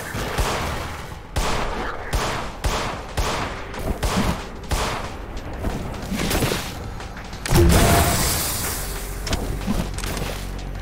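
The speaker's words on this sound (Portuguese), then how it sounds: "Cara, eu vou meter tiro neles." Gunfire aimed at enemies in the horror game In Sound Mind: a burst of rapid, closely spaced shots, then heavier single blasts and a deep boom, loud and close with no talk over it.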